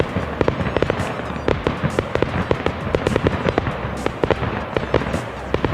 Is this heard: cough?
no